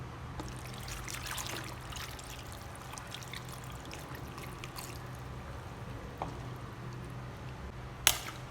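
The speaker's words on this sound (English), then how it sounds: "So then I'm going to add my water." Water pours and trickles steadily into a pot of beans for several seconds, a continuous close splashing stream, ending with a short sharp knock.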